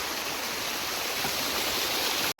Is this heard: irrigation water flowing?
yes